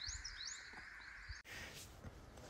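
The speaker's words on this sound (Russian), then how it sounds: "И птицы поют" Birds sing outdoors: faint, quick high chirps and tweets over quiet background hiss, followed by a stretch of softer ambient noise.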